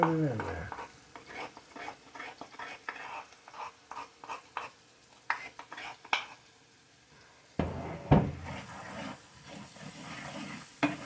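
Onions sauté in a pan, a utensil scraping and tapping in quick repeated strokes against a soft sizzle, with a louder clatter near the end and a brighter hiss rising afterward.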